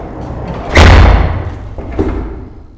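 A heavy fire door inside a 107-year-old hydroelectric dam slams shut with one loud, booming thud, followed by a lingering echo and a smaller knock about a second later.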